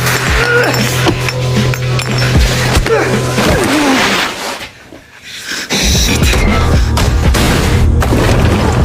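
A loud, dense action mix from the TV series Total Recall with Arnold Schwarzenegger: impacts and rumbling bursts, a brief near-silent drop midway, then a heavy booming grenade blast in a basement and sustained roar.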